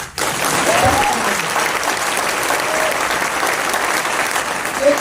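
Audience clapping at a youth motivational event in Gorakhpur, a dense steady burst of applause filling the hall from start to finish, with a faint vocal tone mixed in.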